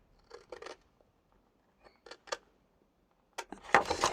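Scissors trim surplus paper from a 30x30 sheet, giving a few short crisp snips in separate clusters, with a denser run of cutting at the end, close and alone with no talk.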